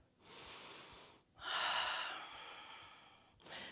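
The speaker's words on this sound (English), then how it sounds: "Taking another couple of breaths in here" Slow, audible breaths during a yoga pose: a long airy inhale, a short pause, then a fuller exhale that tapers off and a brief final intake, close and quiet with no speech.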